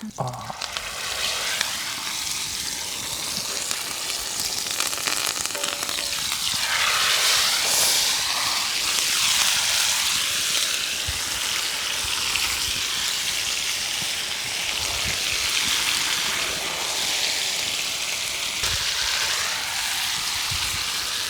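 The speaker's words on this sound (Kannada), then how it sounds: "finally the fish is cooking" Fish frying in hot oil in a village kitchen, a loud, steady sizzle and crackle that runs unbroken for the whole stretch, with a voice faintly underneath.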